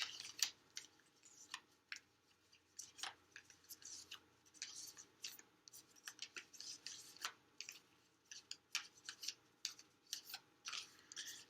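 Rapid papery riffling and soft flicks of tarot cards being shuffled, in repeated bursts close by, with no talking.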